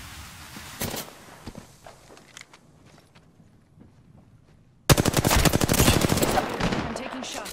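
Rapid bursts of video game gunfire, a brief volley early on, then a loud sustained stretch of automatic fire in the second half with dense repeated shots.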